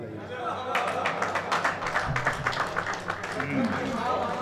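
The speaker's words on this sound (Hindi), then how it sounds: "फिर भी एक बार तालियां बजाइए" An audience at an Urdu mushaira poetry recital applauds, a fairly faint, steady patter of many hands clapping with voices murmuring beneath.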